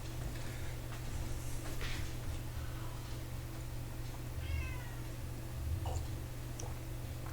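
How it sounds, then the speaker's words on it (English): Indoors in a home kitchen during cooking, a cat gives a few short, faint meows over a steady low background hum, with brief clicks in between. "Not sure if you can hear, but she's meowing at me now."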